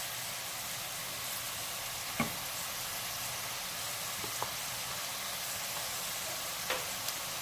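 Worcestershire sauce goes into chicken chilli dry frying in a pan. A steady, even sizzle runs throughout, with a few faint clicks scattered across it and no voices.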